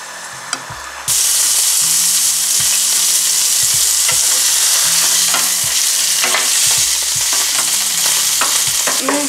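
Steak drops into a hot pan and sets off a loud, steady sizzle close by, with faint scraping and stirring clatter and occasional pops running over the constant frying hiss.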